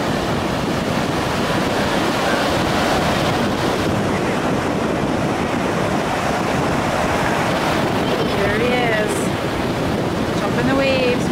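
Ocean waves break and wash along a beach in a constant broad roar, close and steady with wind buffeting, with faint voices and a few high squeaks near the end.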